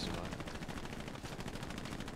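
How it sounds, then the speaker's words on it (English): Sustained machine gun fire from Hell Let Loose, a dense stream of rapid shots without a break, loud and fairly close, forming a continuous rattling burst with no talk over it. "That was a machine gunner, not a tank."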